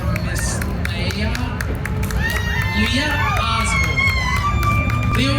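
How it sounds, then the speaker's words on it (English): Outdoor crowd at a Fremont, Ohio street cruise-in cheers and claps for a contestant, with whoops, shouts and scattered children's voices forming a lively, continuous din. "please give me a warm round of applause for Miss Leah"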